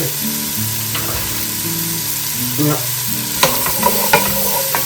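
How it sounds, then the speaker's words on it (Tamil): Chopped onions stirred and frying in butter, an even sizzle under a low background hum, then several loud scraping stirs of a spoon against the pan near the end, nobody speaking. "ஓனியனை போட்டு அதை கொஞ்சம் நீங்கள் மிக்ஸ் பண்ணி கொண்டு இருக்கும் போது"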